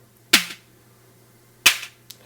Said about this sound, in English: you're going to get a real like XOX type of drum sound, like maybe a 909 snare